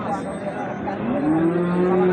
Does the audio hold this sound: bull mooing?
yes